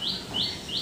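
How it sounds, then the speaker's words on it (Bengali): Birds chirp outside behind a house after the first rain, three quick high rising tweets in under a second, fairly clear over soft background noise, with no speech. "পাখি ডাকছে"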